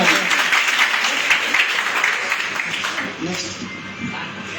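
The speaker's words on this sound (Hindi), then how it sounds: "ताली बजाइए जोरदार।" A seminar audience claps loudly and continuously as a dense, close crowd applause that softens slightly toward the end, with voices mixed in.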